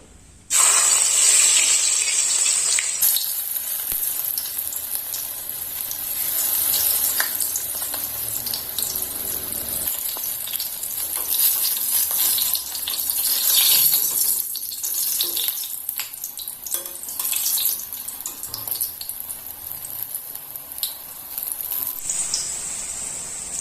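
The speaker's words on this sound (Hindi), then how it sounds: "तेल गरम होगला एखन मक्खन फूल के देमु फ्राई करमु" Makhana (fox nuts) frying in hot oil, a loud continuous crackling sizzle that stays steady throughout, close up and alone with no talk.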